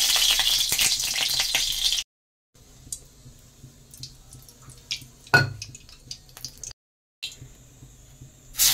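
Mustard oil heating in a hot kadai on the stove, giving a loud, dense sizzle for about two seconds, then softer crackling broken by brief silences and a sharp clatter.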